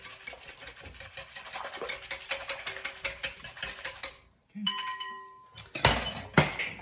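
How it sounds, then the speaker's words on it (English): Wire whisk rapidly beating sourdough starter in a bowl, a fast rhythmic clatter and scrape against the sides, pausing briefly before a ringing clink and more brisk whisking. "kind of whisk that up"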